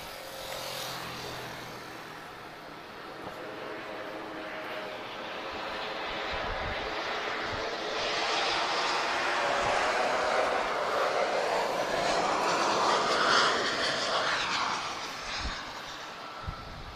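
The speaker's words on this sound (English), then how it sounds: "So we've got TAP Express inbound, TP1686 arriving from Madeira." A TAP Express Embraer E195 long-range jet from Madeira landing at Lisbon Airport with a long landing run: a distant roar that swells gradually into a loud broadband rush near its peak, then eases off, heard alone.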